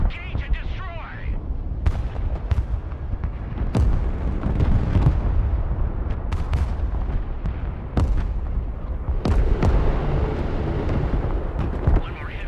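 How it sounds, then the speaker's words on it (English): Artillery fire in the video game Broken Arrow, with heavy booming blasts and sharp gunshot cracks landing at irregular intervals over a rumbling battlefield bed, while voices talk during the fighting. "This artillery is getting annoying."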